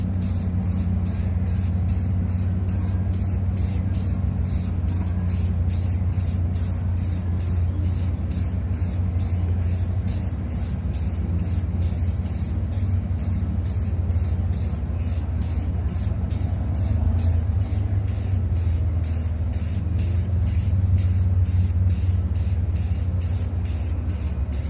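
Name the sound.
spray painting a plywood sign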